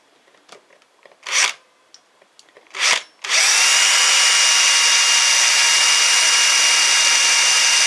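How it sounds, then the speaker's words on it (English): After a few short scraping and whirring bursts, a power drill with a 6mm bit starts boring a mounting hole for a spot light and runs continuously at a steady, loud high-pitched whine. "And then with a 6mm drill bit in the centre"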